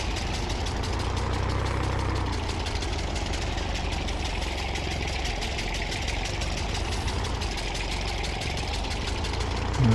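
A mowing tractor in Farming Simulator 19 drones loud and close, its engine holding a steady low idle-like rumble with a rapid mechanical chatter running underneath throughout.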